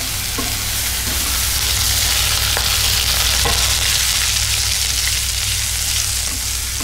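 Onion and ginger fry loudly in hot oil in a pan for stuffed bitter gourd, a steady dense sizzle running throughout, close and strong, with a few faint scrapes of stirring.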